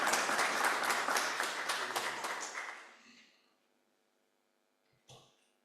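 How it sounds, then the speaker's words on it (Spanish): An audience gives a round of applause to panelists at an academic forum: dense, fairly loud clapping that tapers off over about three seconds into near silence, followed by one brief faint knock. "un aplauso a nuestros panelistas de este foro"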